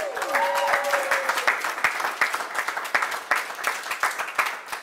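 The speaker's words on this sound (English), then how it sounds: "Give your executive director of this office a great big round of applause." A crowd at a campaign rally in Macon, Georgia applauds, a dense wash of clapping that thins into scattered individual claps, with a brief voice at the start.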